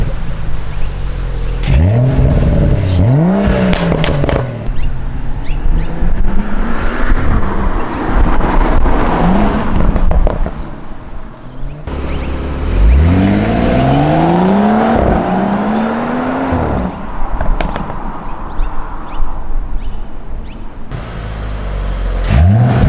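A BMW M135i with a catless VRSF downpipe starts and revs hard several times, loud and close, the exhaust rising to a roar and dropping back between pulls, with wind buffeting.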